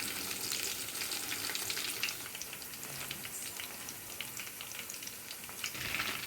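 Chicken legs frying in a pan for a spicy starter, a continuous close crackling sizzle with fine popping spatters throughout, no voices.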